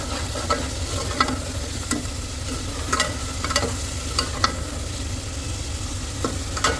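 Masala sizzles in hot oil for a curry while being stirred, a steady close frying hiss broken by regular scraping spoon strokes against the pan.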